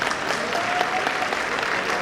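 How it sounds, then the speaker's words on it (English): Steady applause from an audience at a college freshers' event, continuous dense clapping filling the whole stretch without any speech. "Please, a huge round of applause,"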